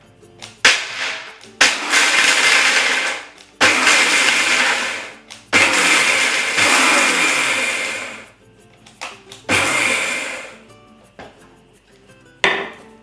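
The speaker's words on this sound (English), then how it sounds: "Pop in half a cup of almonds and then pop the lid on and pulse a few times to get them to your desired consistency" A countertop blender pulses half a cup of almonds in repeated loud bursts of grinding whir, each lasting one to three seconds and separated by brief pauses, with rattling nuts in the jug.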